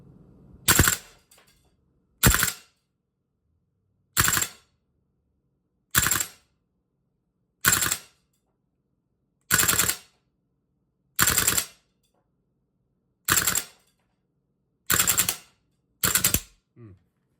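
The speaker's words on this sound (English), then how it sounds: "I'm just shooting in burst" Bursts of gunfire from a Viper Tech M733 A2 rifle upper, ten short loud bursts spaced about two seconds apart with silence between them, and no speech.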